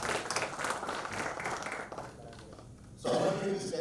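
An AGM audience gives a round of applause, a dense wash of clapping that thins after a couple of seconds before a voice resumes speaking.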